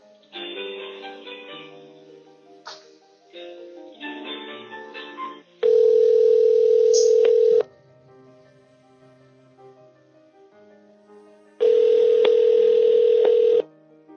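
Telephone line sounds during a call transfer: a stretch of mixed tones and dialing beeps, then two long, loud, steady dial-tone segments separated by a quieter gap, with no voices.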